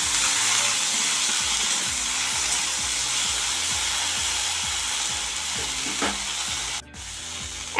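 Green chilies, garlic cloves and black cumin stir-fried in a pan: a steady, close sizzle with repeated scraping strokes and a brief clatter near the end.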